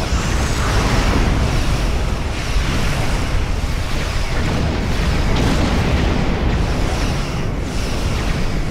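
Photon torpedo explosions in the space combat game Star Trek Online, heard as a dense, loud continuous rumble of booms and blasts with some surges, filling the whole stretch without speech.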